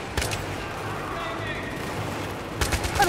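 Gunfire in a modern military first-person shooter campaign crackles as a dense, continuous fusillade with sharp louder shots at the start and near the end, steady and mid-distance throughout.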